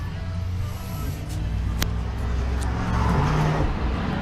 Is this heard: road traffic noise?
yes